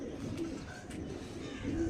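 Pigeons of a high-quality Andhra breed coo softly indoors, a couple of low, rounded calls rising out of a quiet, slightly noisy room.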